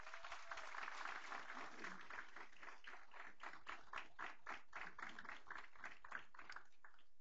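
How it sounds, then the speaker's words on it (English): Applause at a school board meeting for a group of students, dense rapid clapping from a room full of people, sustained and even for several seconds, recorded quietly and without talk over it. "Let's give all 65 of these students a big round of applause."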